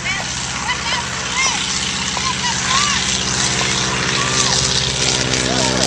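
A Storch aircraft taking off on a breezy day, its propeller engine droning steadily and growing slightly louder, with voices talking throughout.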